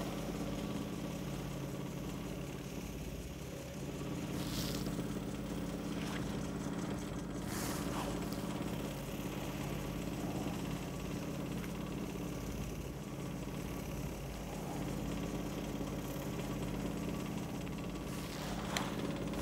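A polishing machine runs at raised speed, making a steady low mechanical hum and drone that holds evenly throughout at a faint level.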